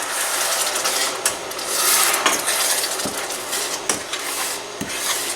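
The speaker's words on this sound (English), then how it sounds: "you want to give that stir" Peanut butter fudge mixture being stirred in a pot for Christmas fudge, with a steady scraping, rubbing texture and several sharper knocks of the spoon against the pot, close and continuous without speech.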